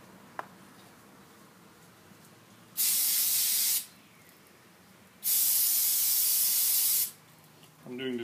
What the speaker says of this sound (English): I use brake parts cleaner because it's not flammable, whereas regular parts cleaner could be flammable.